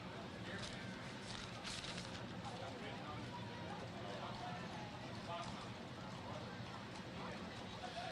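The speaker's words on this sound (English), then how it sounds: "he's riding his horse" A mounted patrol officer's horse clip-clops along the route of the 2011 Ste. Genevieve County Fair Parade, its hoofbeats faint and steady beneath crowd murmur and background chatter throughout.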